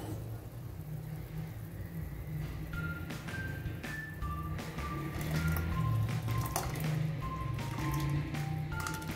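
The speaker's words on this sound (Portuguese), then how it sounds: "Água fervendo, abaixei o fogo para colocarmos o nosso fubá." Water boils in a pot on a lowered flame before cornmeal is stirred in for a soup with eggs and kale; steady bubbling and hissing carries throughout, with scattered small clicks and pops.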